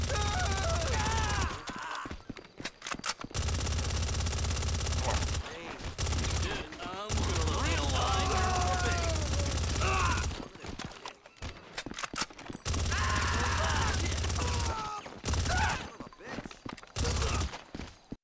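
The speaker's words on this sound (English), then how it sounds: "the sound of the tactical SMG is just great." Rapid bursts of suppressed fire from a tactical SMG in GTA Online, coming in clustered volleys with short gaps, over a busy game backdrop that includes hoofbeat-like clatter and voices.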